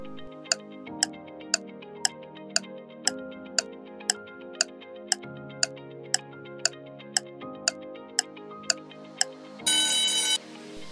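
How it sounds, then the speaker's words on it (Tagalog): A quiz countdown timer ticks steadily at about two beats per second over a soft musical bed for roughly nine seconds, then ends in a brief loud buzz or ring. "Timer starts now."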